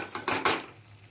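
A kitchen gas stove knob is turned off after cooking a bhindi masala vegetable dish, giving three quick close metallic clicks in a row followed by quiet room tone.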